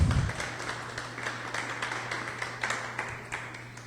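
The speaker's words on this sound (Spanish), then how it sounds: "Démosle un aplauso al Señor." A church congregation applauds at moderate distance, a loose spread of clapping that continues steadily under a low sustained hum, with a few sharper claps standing out.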